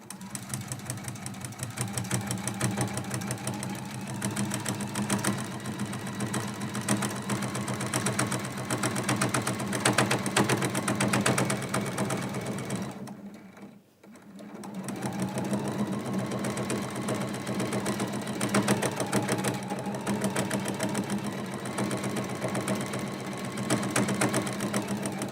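A home sewing machine stitching binding onto a quilt with a binding foot, running in a steady, fast mechanical hum for long stretches, stopping briefly midway, then starting up again.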